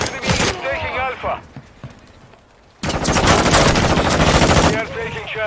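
Automatic gunfire rattles in a Call of Duty multiplayer match, loud sustained bursts broken by a short lull, with a radio-style announcer voice calling objective updates in between.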